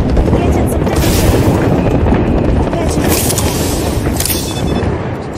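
A loud, sustained explosive roar from a grenade blast in the video game Apex Legends, booming rumbles dense and continuous with bursts of crackling, fading slightly at the end.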